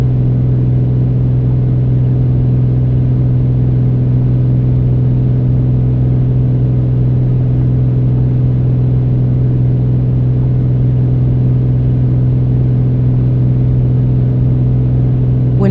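In Microsoft Flight Simulator, the piston engine of a PA-24 Comanche drones loud and steady as a continuous low hum with no talking.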